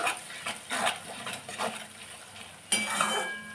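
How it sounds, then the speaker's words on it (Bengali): Spices with red chili powder frying in a pan for a duck egg recipe, with soft repeated scraping and stirring strokes and a light sizzle, close and fairly quiet, no talking. "এগুলোকে ভালো করে ভেজে নেব।"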